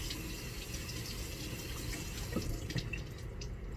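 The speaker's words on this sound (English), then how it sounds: "So let's rinse him off." A plastic toy is rinsed under a running tap, a steady close splash of water with a few faint knocks partway through.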